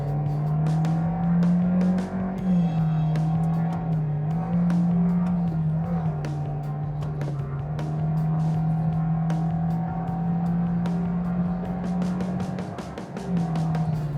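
A 2023 Toyota Vios with a CVT accelerates, its engine holding a steady droning tone inside the cabin that rises slightly, with constant road noise and faint clicks underneath.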